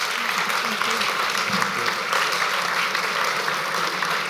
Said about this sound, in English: I'd like to give a warm round of applause to our panelists.